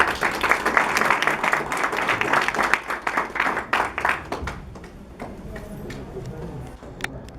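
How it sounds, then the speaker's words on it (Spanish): An audience at a lecture on neoclassical theory of entrepreneurship gives a speaker a round of applause; dense clapping fills the first few seconds, then thins to scattered claps and fades into a quiet room. "recibamos un fuerte aplauso al expositor de hoy, Dante Urbina Padilla."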